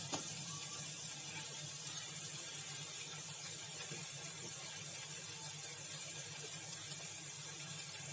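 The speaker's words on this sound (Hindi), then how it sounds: "सारा मसाला निकालने के लिए थोड़ा पानी डाल रहे हैं कटोरी में डाल के।" Water poured into a small bowl of cooking masala to rinse it out, a steady close hiss of running water for several seconds with no talk.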